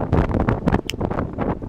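Strong wind gusting across an open glacier area near Vatnajökull in Iceland's Skaftafell park, buffeting the microphone with loud, continuous rumbling and fluttering noise throughout.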